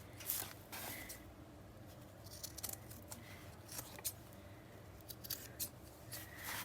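Scissors snip along the edges of a soft-spine junk journal, a quiet series of crisp, irregular cuts and paper rustles, close up with no talking.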